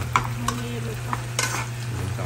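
Adobong sitaw, string beans cooked adobo-style, sizzles steadily in a pan while a utensil scrapes and clinks against it in irregular stirring strokes, close and moderately loud with no talking.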